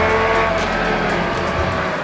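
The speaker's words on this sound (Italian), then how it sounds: "il motore prende gradualmente potenza per poi esplodere agli alti, dove ogni sonora cambiata è accompagnata da un sound unico" An MV Agusta Superveloce 800 three-cylinder engine screams continuously at full throttle and high revs, loud and close, with a steady rasping whine and no talking.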